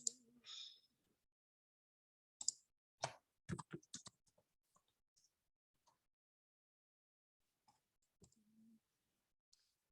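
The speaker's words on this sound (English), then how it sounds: "I'm typing some different things to different people" Sparse computer keyboard typing, a few quick clusters of faint key clicks separated by long quiet gaps in a quiet room.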